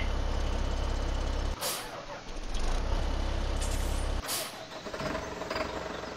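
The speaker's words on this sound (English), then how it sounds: "here's the big tractor. Where's the trailers? Go ahead and start you." A big tractor in a farming video game starting up, with a loud engine drone broken by two sharp hissing bursts like air brakes releasing, heard alone with no talk.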